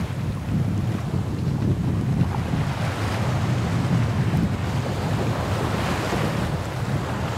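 Light wind rushes across the microphone while choppy sea waves slosh steadily around a sailboat, a dense continuous wash of water and wind noise with no voices.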